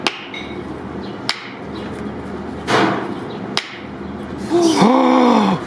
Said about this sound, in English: So the kebab comes out in the dish and then you tap it with the hammer.